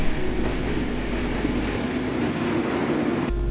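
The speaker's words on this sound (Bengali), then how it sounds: "আর পাশ দিয়ে মৈত্রী এক্সপ্রেস চলে যাচ্ছে।" The Maitree Express rolls past at a border checkpost, a continuous heavy rumble and rattle of railcars close by, steady and loud throughout with no voices.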